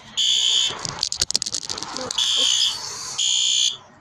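A building fire alarm sounds loudly during a test, its harsh electronic tone cutting in and out in long bursts, with clattering and brief voices between the blasts.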